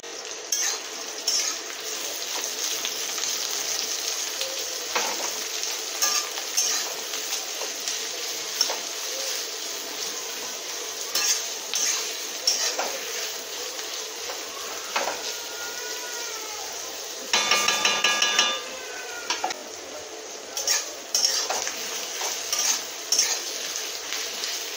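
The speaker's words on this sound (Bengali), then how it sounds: "পেঁয়াজটা ভালোভাবে ভাজা হয়ে গেছে।" Onions frying in oil with bay leaf, dried red chilli, cumin and curry leaves for a thin Bengali mutton curry: a steady broad sizzle throughout, with scattered utensil clinks and scraping, close and moderately loud, no talking.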